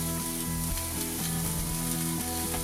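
Smash burgers sizzle loudly and continuously on a hot griddle plate set in a kamado grill, a dense, even frying hiss with faint hum underneath.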